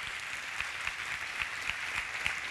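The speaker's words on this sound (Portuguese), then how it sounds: "Vamos aplaudir porque ele respondeu certo." A church congregation applauds in a steady, dense patter of many hands, with a few sharper claps standing out now and then.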